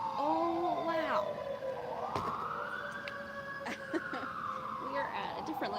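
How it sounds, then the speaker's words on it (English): Emergency sirens wail continuously in downtown San Diego, rising and falling at a distance outside a library, with faint background noise. "Can you hear the sirens?"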